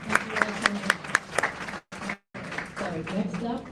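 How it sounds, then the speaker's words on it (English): Applause at a candidates forum for judicial candidates, a burst of clapping under a speaking voice, briefly cut off, then continuing more softly beneath talk. "Let's give a big round of applause to all of our judicial candidates."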